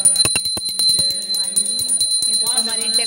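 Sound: new hand bell being rung during Diwali puja

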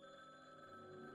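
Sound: telephone ringing in the video game Downfall

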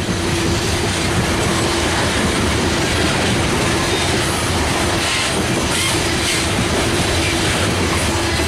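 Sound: Norfolk Southern freight train led by EMD SD40-2 passing

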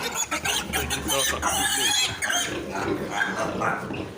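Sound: piglets squealing

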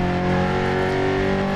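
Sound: rattling car engine in the video game DiRT Rally 2.0

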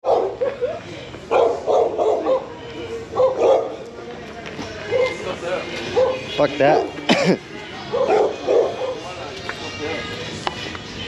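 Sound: dogs barking on a street at night

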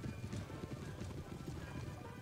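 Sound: cavalry horses' hooves in video game Napoleon Total War

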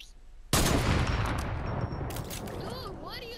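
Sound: gunfire in a video game

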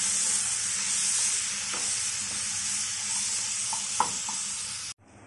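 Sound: chicken frying in hot oil in a pan

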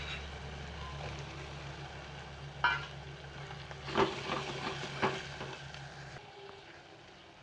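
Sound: frying onion, tomato and masala for brinjal curry

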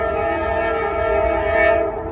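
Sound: train passing with horn

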